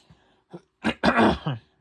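A person clears their throat close up with a few short rough rasps, then one longer, forceful harrumph.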